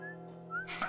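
Short whistling from a person: a few rising whistled notes over a steady background hum, ending in a burst of noise.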